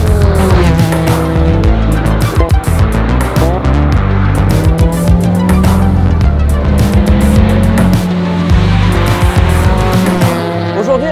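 A Toyota AE86 Trueno engine revs hard at full throttle, loud and close, with rising and falling pitch through gear changes and brief tire squeal.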